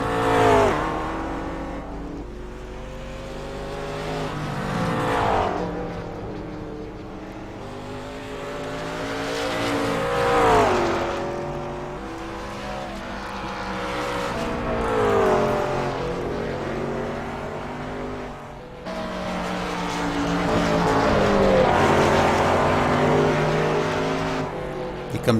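A McLaren race car at Bathurst roars through a long run, its engine rising and falling in pitch through the gears with repeated loud surges, alone with no talk.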